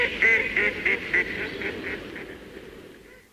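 Repeated nasal quacks from a farmyard duck, a run of about eight calls that starts loud and close, then grows fainter and more spaced before trailing off, with no talking.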